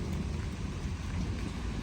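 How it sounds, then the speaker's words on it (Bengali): Heavy rain pouring steadily over a garden house during a sudden summer storm, a dense continuous wash of close, even noise with no break and no voices. "মোটামুটি পাঁচ মিনিটের মতো বৃষ্টি হয়েছে অজরে বৃষ্টি দেখতেই পাচ্ছেন"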